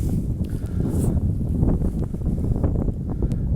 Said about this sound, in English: now it's getting really windy